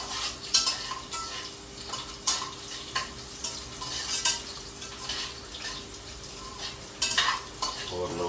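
Green chilies sautéing in oil in a pan for a home-style chicken gravy, a steady sizzle and crackle with repeated scraping and clinking of a metal spoon stirring against the pan, close and without talk.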